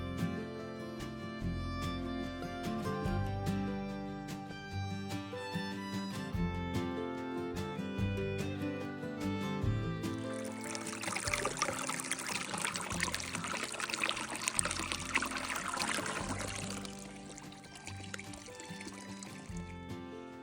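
A river flows past a riverside campsite with a steady wash of running water. It begins under tonal background sound and then swells into a fuller, brighter rush before easing slightly near the end.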